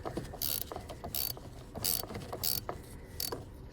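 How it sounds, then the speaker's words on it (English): Ratchet turning a small screw on a Volvo XC70, bursts of rapid clicking repeated about five times in short even strokes, close and quiet with no talking. "So I'm just undoing the little screw now."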